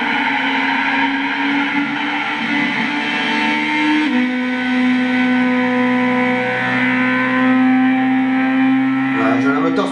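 A Honda Civic race car in Gran Turismo 6 at Silverstone holds a loud, sustained engine whine that shifts pitch as it accelerates and changes gear, under excited commentary in French.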